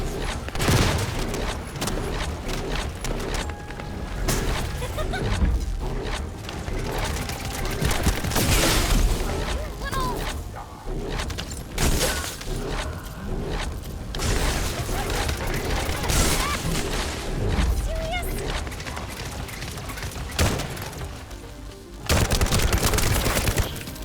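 Dense gunfire in the shooter game The First Descendant, rapid continuous bursts with booms and mechanical clatter, loud and sustained, with voices speaking underneath.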